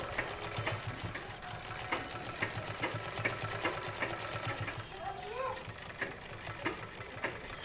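Sewing machine stitching the folded side seam of a petticoat, a steady close mechanical whirr running throughout with no voice over it.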